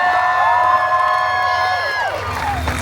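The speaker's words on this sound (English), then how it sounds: "Oh, you guys can cheer louder than that if you'd like." Audience cheering and whooping at a Deadpool story time show at Disney California Adventure, a crowd with children's shouts, loud and close, fading over the final second.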